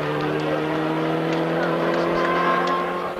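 A Mitsubishi rally car at full throttle on the 2000 Tour de Corse, its engine a loud sustained high-revving drone as it passes near, with a commentator's voice faintly mixed in.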